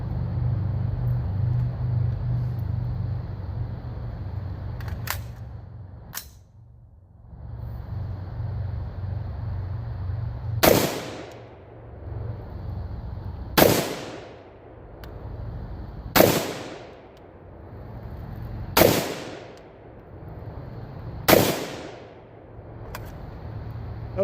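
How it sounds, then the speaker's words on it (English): A rifle fitted with a muzzle brake fires five loud, sharp rapid shots spaced a few seconds apart, each crack followed by a short echoing decay outdoors. "now we're going to take 5 rapid fire shots with this, just aiming at a small, like 2 by 2 inch square"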